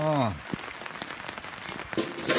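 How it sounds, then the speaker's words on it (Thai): Light rain falls on a rural Thai vegetable garden, a steady soft patter of drops close by, while someone talks briefly at the start and again near the end. "มื้อนี้ฝนตกสักน้อย"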